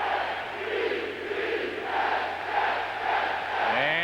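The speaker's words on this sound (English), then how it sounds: "And the crowd into the game doing a little cheer." A large crowd at a 1995 NFL football game between the St. Louis Rams and the New York Jets roars and chants in rhythmic swells, a loud continuous stadium din with surging waves of cheering.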